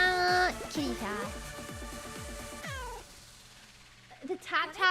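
Cat meowing several times in quick succession, drawn-out and fairly loud, followed by a voice making meow-like sounds that may be imitating the cat.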